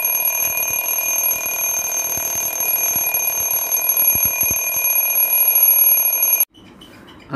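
A table alarm clock's bell rings loud and continuously at close range, a harsh sustained metallic jangle that stops abruptly near the end, with no talking.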